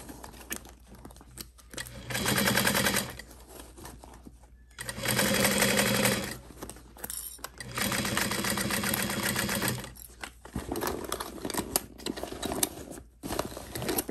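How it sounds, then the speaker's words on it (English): A sewing machine stitches the top seam of a handbag in three long whirring runs, loud and close, separated by short quiet pauses. "we're just gonna sew around the top"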